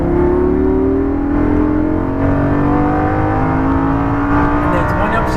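A sports car accelerating at full power on a race track, the engine note climbing steadily in pitch as it builds speed, loud and close, with an instructor talking over it.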